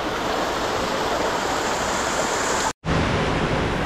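A small waterfall on a rocky mountain stream at Wo Mak Hang pours in a steady, close, full rush of water, broken by a single brief dropout near the end.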